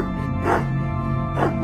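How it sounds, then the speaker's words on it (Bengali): A dog barks in two frantic, distressed bursts over a steady low background, used as an audiobook sound effect. "কুকুরটা ডাকছে, পরিত্রাহী চিৎকার।"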